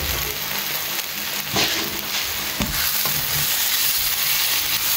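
Dried Bombay duck fries with tomatoes and onions in a pan, making a loud, dense, close-up sizzle with a few soft bumps from stirring and no speech.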